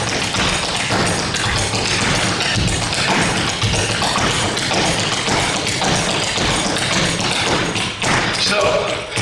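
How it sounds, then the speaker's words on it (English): Flat footing clog dance steps, a rapid continuous stream of close, loud taps and thuds on a hard floor with an even driving rhythm throughout. "Flat footing basics sounds like."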